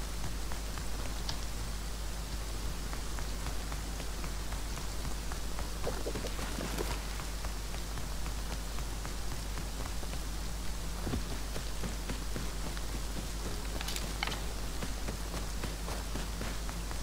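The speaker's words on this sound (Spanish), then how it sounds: "Coge agua ahora que está lloviendo." Rain falls steadily in the video game Rust, a dense continuous hiss with scattered droplet patters and a few faint rustles throughout.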